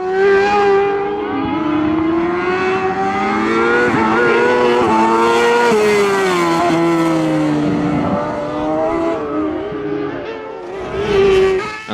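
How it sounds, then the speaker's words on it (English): A 600cc Kazmat cross kart races hard along a rally stage, its high-revving engine loud and near, pitch rising and falling continuously through gear changes for the whole stretch with no talk. "And Thomas Wedlock is still 5th and really extracting every ounce of horsepower from that 600cc Kazmat."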